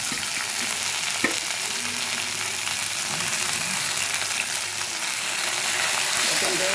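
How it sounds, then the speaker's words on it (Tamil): Chopped coriander leaves sauté in a pan with onions for coconut chutney, producing a steady, dense sizzle with occasional faint stirring scrapes throughout. "நல்லா இதோட சேர்த்து வதக்கி விட்டுருங்க"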